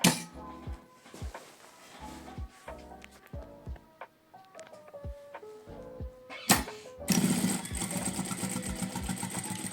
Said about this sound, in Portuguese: Então vamos lá costurar este bocadinho.